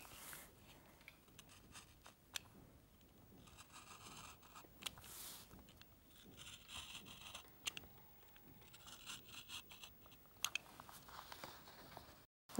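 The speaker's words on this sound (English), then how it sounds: "Now, we cut out these multiples with the help of a cutter." A cutter slices through paper to cut out numbered multiples for a chart, giving quiet, close scratchy strokes and small crisp snips in an irregular rhythm.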